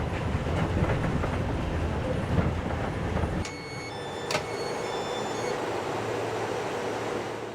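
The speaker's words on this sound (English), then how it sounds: "But the train is zooming. It's very fast." Fast people-mover train in Italy rushing along its track, a loud rumbling roar with rhythmic wheel clatter that cuts off abruptly partway through, followed by quieter cabin hum and a short metallic squeal.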